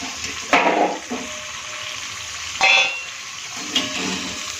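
French fries for spicy peri peri fries frying in hot oil, a steady sizzling hiss with bursts of louder crackling as more fries go in, no talking.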